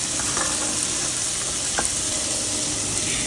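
Boiled taro and softened tomatoes stir-fry in a hot pan with spice, giving a steady close sizzle and hiss throughout, broken by a few light scrapes of the spoon stirring.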